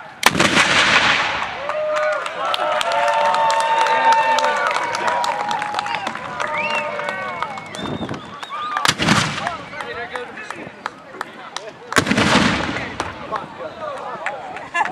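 Cannons fire in sequence at a night battle anniversary at Fort Macon, with booming blasts and echoing rumble spaced several seconds apart, plus crowd noise and shouted commands.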